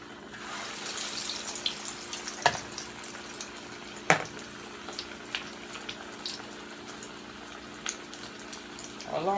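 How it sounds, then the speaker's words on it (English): Salmon patties fry in hot grease in a pan, giving a steady sizzle broken by sharp pops and spatters at close range, with no speech. "just drop them in the grease and let them fry"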